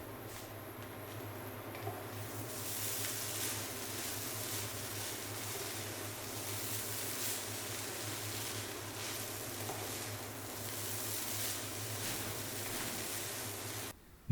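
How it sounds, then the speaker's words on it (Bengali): Home-made fried rice frying over high heat with ghee added near the end, a continuous, even sizzle holding steady for the whole stretch with no voices, ending in a brief sharp knock. "চুলার হিট একটু হাই করে ভেজে নিচ্ছি শেষের দিকে ঘি দিয়ে দিচ্ছি"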